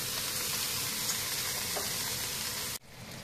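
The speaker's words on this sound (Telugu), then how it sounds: "ఇలా ఒక 15 నిమిషాలు వేయించుకోవాలి" Brinjal frying with masala in a pan gives a steady, close sizzle with a faint stir near the middle, then cuts off sharply to a quieter sizzle for the last half second.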